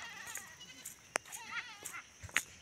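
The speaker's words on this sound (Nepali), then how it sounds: "बाख्राहरू आउँदै छ साथीहरू।" Goats bleating near a small suspension bridge over a river ghat in Bardiya, Nepal, with a few short, fairly clear calls spread across a quiet outdoor background.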